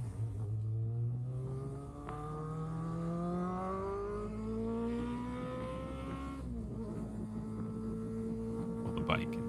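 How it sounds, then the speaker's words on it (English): A Kawasaki Ninja and a BMW R nineT motorcycle riding on a cruise, engine note rising steadily through the gears with sustained, fairly close drone under wind noise. "I'm gonna let you hear the bikes."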